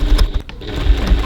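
Sewing machine top stitching a handbag pocket, a short burst of rapid mechanical stitching with a brief pause in the middle, close and fairly loud.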